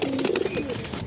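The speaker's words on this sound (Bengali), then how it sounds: "তো কবুতর দুইটা আমরা ছাড়ি," Shahjahanpuri pigeons coo close by in a short, throaty, rolling call, with no speech.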